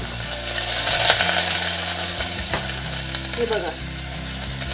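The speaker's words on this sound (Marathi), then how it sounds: "आणि आता आपण आधी कांदा टाकून घेऊया। पॅन माझा छान गरम झालेला आहे" Onion frying in a hot pan, a loud close sizzle with stirring scrapes and a few metallic clinks, continuous for several seconds while someone speaks briefly.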